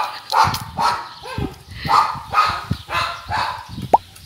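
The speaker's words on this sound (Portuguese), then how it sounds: "Latindo pros meninos que ficam correndo na rua" A dog at a gate barks at boys running in the street. It gives a series of sharp, fairly close barks and yips in irregular bursts, with a short high whine near the end.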